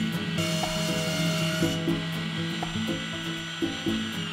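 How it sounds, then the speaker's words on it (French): A power saw hums steadily, its pitch dipping in repeated bursts as it cuts through a wooden board for a cutting board, with a faint whine throughout. "je peux couper une dernière fois la planche"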